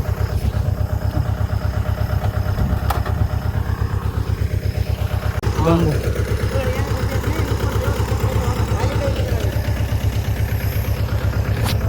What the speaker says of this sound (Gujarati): અત્યારે ત્યાં ટ્રેક્ટરનો અવાજ આવે છે